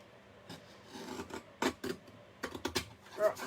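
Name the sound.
paper trimmer blade cutting cardstock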